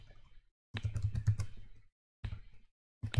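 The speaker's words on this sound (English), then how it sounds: "start typing exactly what's just written in there" Quiet bursts of typing on a computer keyboard while entering Linux network configuration, quick clustered key clicks separated by short silent pauses, close and alone.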